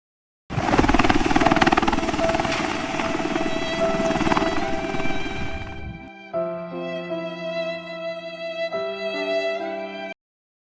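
A Bell 212 helicopter in flight gives a loud, steady rotor and engine roar for about five seconds, then cuts to sustained tonal music.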